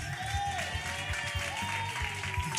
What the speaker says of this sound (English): Give it up, clap it up.